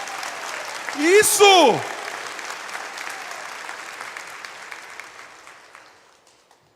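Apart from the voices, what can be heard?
audience applause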